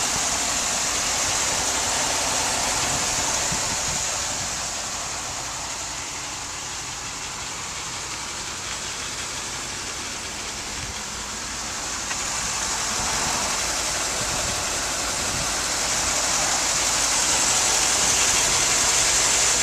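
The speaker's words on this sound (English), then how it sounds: "Engine is very smooth and quiet." A 2002 GMC Blue Bird Handybus with an 8.1 liter gas and propane engine idling, a smooth, steady low hum with gentle swells in level, fairly close and with no speech.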